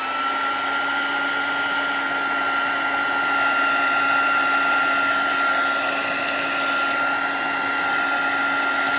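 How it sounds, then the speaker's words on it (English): A heat gun blows steadily while melting craft material for a faux tile effect, a constant loud whirring fan hiss with a high whine that runs unbroken for several seconds, with no talking. "I'm just going to use my heat gun from the top and just melt all of the front of that."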